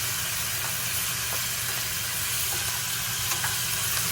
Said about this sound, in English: we're just letting these onions caramelize a little bit